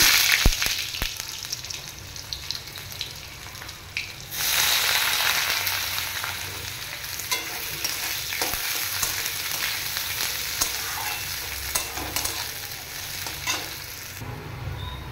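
Onions dropped into hot oil with black cumin and dried chili for a taro leaf curry; a few stirring clinks give way to a sudden, loud, sustained sizzle that goes on under occasional spatula scrapes.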